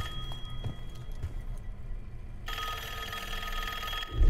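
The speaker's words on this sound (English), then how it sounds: "Phone ringing." A telephone rings in a Call of Duty: Black Ops game scene, its bell tone cutting in partway through and sounding loud and steady over low game ambience, with no talk.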